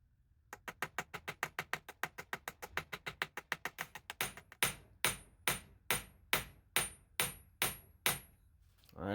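Rapid hammer taps pinning metal pins over the handles of a vintage Colonial jack knife, a fast even run of close strikes that slows into heavier, spaced blows, loud and near with no talking.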